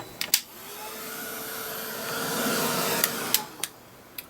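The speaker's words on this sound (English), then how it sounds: "Heat gun." A heat gun blows a steady, breathy broadband whoosh for several seconds during artist trading coin crafting, with a few sharp clicks and taps at the start and near the end.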